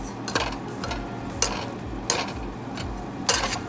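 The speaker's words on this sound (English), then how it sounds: "So now just stir it up" Beef and vegetable wrap filling gets stirred in a pan, repeated scraping strokes with a few sharper clinks over a low sizzle, close up and unaccompanied by speech.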